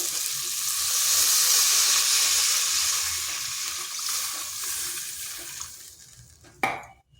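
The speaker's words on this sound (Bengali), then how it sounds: "আলুটা কষানো হয়ে গেছে এখানে দিচ্ছি জল" Steady, loud frying sizzle from sautéed potatoes in a pan, ending with a sharp hissing burst as water is poured in, then the sound quickly dies down.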